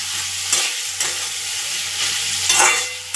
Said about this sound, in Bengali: এতে আলুগুলো দিয়ে দিলাম, আলুগুলো ভালো করে কষে নেবো